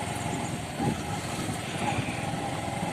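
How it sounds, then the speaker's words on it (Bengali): A motorbike coming from ahead on a red-earth village road, a low, steady engine rumble heard from a moving handheld position with some wind noise and no speech. "সামনে থেকে আবার বাইক আসছে"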